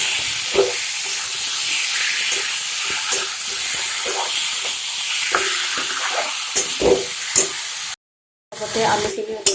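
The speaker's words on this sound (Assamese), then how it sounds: "পিঁয়াজখিনি 2 মিনিট সময় ভজাৰ পিছত মই ইয়াতে মাংসখিনি দি দিছোঁ" Mutton with potatoes and onions frying in a pan for an Assamese-style mutton curry: a steady, close sizzle with scattered stirring scrapes and clicks, briefly cut out near the end.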